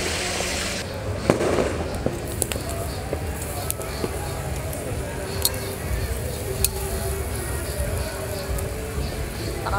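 New Year firecrackers and fireworks crackle and pop in sharp scattered bursts over a constant hiss and roar, some bangs near, others distant.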